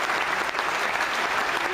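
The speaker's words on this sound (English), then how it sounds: "he deserves a round of applause" Steady audience applause fills the room on a Steve Harvey show, a continuous even patter of many hands clapping at moderate volume without pause.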